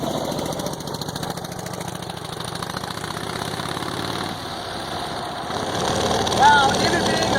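Harley-Davidson engine of a Tiger Cat three-wheeler runs steadily at low speed, a continuous mid-pitched drone with some knocking texture, near and fairly loud, rising briefly toward the end.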